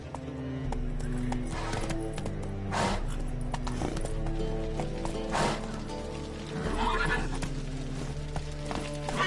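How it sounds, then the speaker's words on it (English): Horse hooves clip-clopping in the Witcher 3 video game, a steady rhythmic trot with a neigh and game music underneath, with a voice speaking over it. "Whoa there, Roach. Faster."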